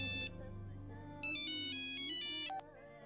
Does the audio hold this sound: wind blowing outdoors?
no